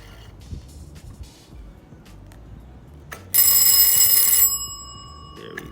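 After a few quiet clicks and taps, an electric doorbell in a combination circuit rings loudly for about a second, then cuts off with a fading metallic ring.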